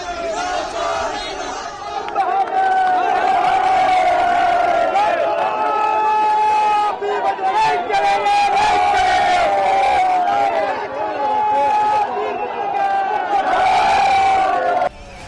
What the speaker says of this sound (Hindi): हर मोहल्ले हर सड़क से भीड़ हिंदू एकता जिंदाबाद के नारे लगाती संजौली की तरफ